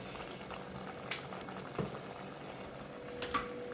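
Sauce for a spicy southern Thai stir-fried stingray boils with a soft, continuous bubbling and gentle popping, faint and close, with a few slightly louder bursts.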